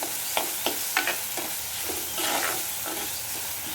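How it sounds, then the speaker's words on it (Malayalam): Onions are sautéed in a pan for mango pachadi, a close, steady sizzle broken by several scraping stirs of a spoon, with no talking. "സവാള ചേർത്ത് നമുക്ക് ഒരുവിധം ഒന്ന് വഴറ്റി കൊടുക്കാം"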